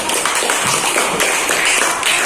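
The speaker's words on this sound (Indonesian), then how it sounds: "tepuk tangan untuk kelompok 3" Pupils in an Indonesian primary classroom clap for a group after its speech presentation, a dense, close burst of many hands clapping at once, loud and continuous, with no talk over it.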